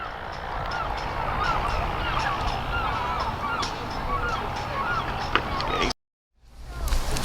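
Gulls call over and over in a city park, a busy stretch of harsh, honking cries against steady outdoor noise, cutting out abruptly near the end before returning.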